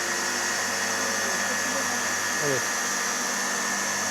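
A machine for making homemade tomato paste runs with a constant loud hum in a village setting, while a person speaks briefly over it.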